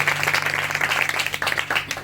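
A church congregation gives loud, dense applause during a prayer service. The clapping is steady throughout, with a few voices mixed in.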